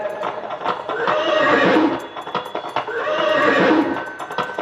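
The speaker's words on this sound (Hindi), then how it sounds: "महाराज दशरथ जो ही चले, घोड़े में सवार होकर के रथ में बैठकर" A sound effect of a horse neighing loudly in two long whinnies, with the clip-clop of hooves running underneath throughout.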